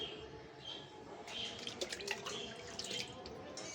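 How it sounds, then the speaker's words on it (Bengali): A potted plant being watered in the morning, a faint trickle and splash of water over soft background noise, with occasional distant bird chirps. "তো একটু করে জল দিয়ে নিই।"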